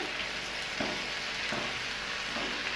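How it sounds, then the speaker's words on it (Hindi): Tomatoes cook in a pan for an Afghani omelette, giving a dense, even sizzle and bubbling hiss throughout with a couple of faint stirring touches, no talk. "अब टमाटर जो है इसको हम तकरीबन 5 से 7 मिनट तक के लिए कुक करेंगे।"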